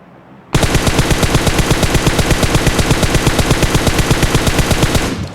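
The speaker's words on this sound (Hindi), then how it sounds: "वो देखिए बहुत देर से फायर कर रहा है" Enemy gunfire in a battle royale video game: a loud, sustained burst of rapid automatic fire cracks out in an even rhythm for about five seconds, with no talking over it.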